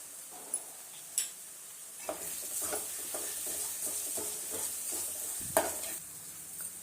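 Tomato masala sizzles softly in a pan as turmeric and garam masala go in, with a spoon repeatedly scraping and tapping in a steady rhythm.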